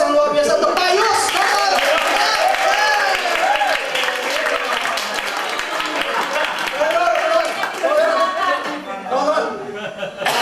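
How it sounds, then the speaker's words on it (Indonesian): Audience applauding and clapping for a new class leader at a PFA training class briefing in Surabaya, steady clapping throughout with chatter and a few chuckles mixed in. "Yuk sama-sama kita kasih aplaus yang luar biasa untuk Pak Yus"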